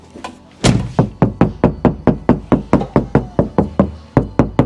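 Knuckles rap repeatedly on a car door panel fitted with only a small patch of factory sound deadener, about sixteen loud, evenly spaced hollow knocks close up, with no talking.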